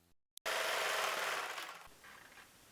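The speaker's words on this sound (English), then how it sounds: "Sewing them together with the inside out so we get a pretty and comfy seam on" Sewing machine stitching fabric pieces inside out for a DIY balaclava hood, after a short silence and a click, a steady fast whirring run that tapers off near the end.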